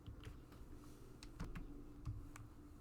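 Computer keyboard keys are pressed in a quiet room, a close run of soft, irregular clicks and taps with no talking.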